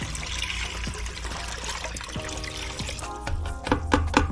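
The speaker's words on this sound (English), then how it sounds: "Mix the two and stir until the salt is fully dissolved" Lukewarm water poured and stirred with half a pound of salt into a gallon container for a raccoon hide salt bath, a steady trickling splash with sloshing, nearby and moderately loud, no talk.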